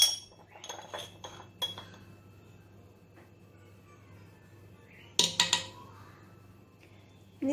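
A small spoon clinks against a pot while ginger goes into chicken broth, giving a few quick light taps early on, a brighter cluster of metallic clinks later, and quiet kitchen background between.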